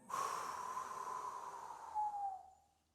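A person seated on the edge of a chair takes one long, steady breath in through the nose, a close, soft airy rush lasting a couple of seconds before fading out, with no talking.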